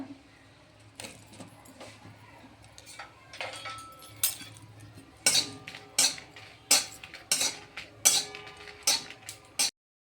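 Metal spoon scraping and clinking against a pan as three dried red chillies are fried and stirred for a plum pickle spice mix, a quiet sizzle underneath and sharp clatters growing louder and more rhythmic toward the end.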